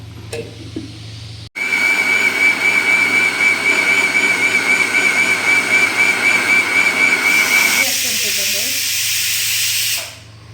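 A pressure cooker cooking soaked green gram whistles, shrieking loudly and steadily for about eight seconds, a continuous hissing whistle that starts abruptly and then dies away.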